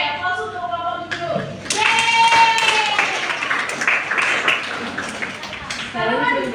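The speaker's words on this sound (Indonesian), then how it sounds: "aplaus untuk Bapak Guru" A classroom of students claps for a teacher during a teaching practice lesson. Scattered, lively clapping rises partway through and carries on under voices and children's chatter.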